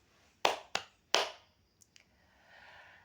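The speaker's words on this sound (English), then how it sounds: "you have to clap your hand three times" Students clap their hands three times in quick succession, the claps sharp and close, followed by a couple of faint taps and quiet room noise.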